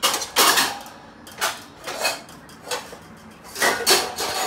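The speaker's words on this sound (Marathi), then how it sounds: "बघता बघता तिने भांडी लावून पण घेतली आहेत" Dishes and kitchen utensils are put away in a home kitchen, with several separate bursts of clinking and clattering spread across a few seconds against a quiet background.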